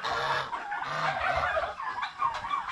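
Domestic farm turkeys gobbling nearby, a quick burbling rattle of calls repeated over a few seconds.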